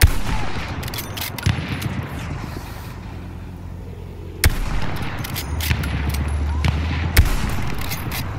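Gunfire in the Battlefield 1 video game on PC, with bursts and single shots against a steady rumble of battle, a sharp loud crack near the middle and another later, and voices talking over it.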